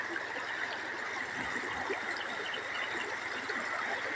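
A mountain stream (sapa) flows steadily above a placer gold-mining area, a continuous broadband rush of water with no breaks, moderately close and alone.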